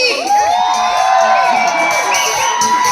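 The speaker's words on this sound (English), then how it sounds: "Who's cheering for Team B?" Audience at an international theatre schools festival cheering loudly for Team B during a game, a dense wash of shouting and high whoops from many voices, including children, sustained throughout.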